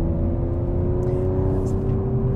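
A 2018 Audi RS5 running hard through canyon turns in automatic mode, its engine a strong steady drone with a clear tonal whine and a brief shift change, close inside the cabin.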